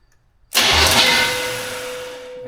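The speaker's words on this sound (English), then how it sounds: "it makes a big clunk, big ringing clunk when it starter engages" A small-block Chevy engine in a square-body C10 pickup has its starter engage with a sudden loud ringing clunk after a brief silence, followed by a metallic ring and whir slowly fading away, no talking.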